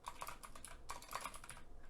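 Rapid typing clatters on a computer keyboard in quick, uneven bursts of key clicks, close but quiet, with no voices.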